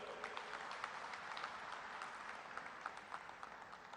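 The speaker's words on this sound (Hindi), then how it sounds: "उनके लिए जोरदार तालियां बजाओ" Audience applause at a film festival: a faint, distant patter of many hands clapping steadily for the whole stretch, with no other sound standing out.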